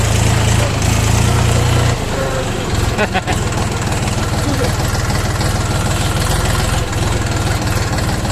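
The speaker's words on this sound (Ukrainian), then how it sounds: "Трактор слухається, їде." A loud, steady engine drone runs throughout, rumbling low and even as a Dongfeng 244 DHX mini tractor drives along over bumpy ground, with slight changes in tone.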